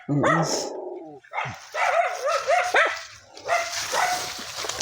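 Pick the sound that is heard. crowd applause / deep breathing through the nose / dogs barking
dogs barking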